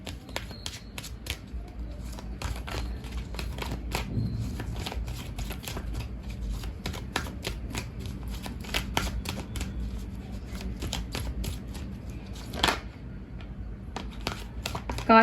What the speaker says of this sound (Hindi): कार्ड शफल करती हूँ